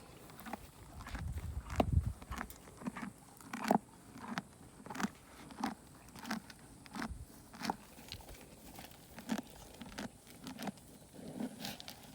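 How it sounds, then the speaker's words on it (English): A horse chews its breakfast on a Florida farm, giving a steady run of close, crunchy grinding bites, roughly one every second, with soft rustling between and no talk. "Such a peaceful sound to me, a horse chewing."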